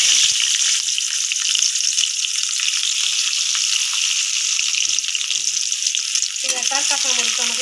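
Oil sizzles steadily in a cooking pot, a dense, continuous frying hiss throughout, with some stirring or clatter near the end.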